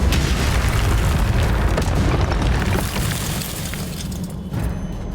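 A Confringo spell explosion in Hogwarts Legacy on Nintendo Switch, a loud, heavy booming blast with a rumbling roar that slowly fades and then swells briefly again.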